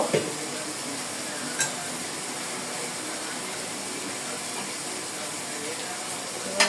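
Hilsa fish pieces stir-fried in a pan, a steady sizzle of hot oil running throughout with a few soft scrapes of the spatula, close and moderately loud.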